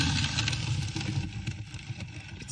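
A Bachmann N scale Main Street Brill trolley under repair runs its small electric motor with a steady, close whirring hum and light mechanical clatter that holds for the whole stretch.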